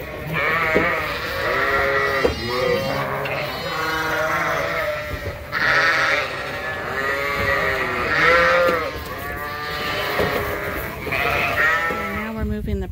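Many pregnant ewes in a barn bleat loudly and repeatedly, overlapping one another in a continuous chorus of wavering cries, close by throughout.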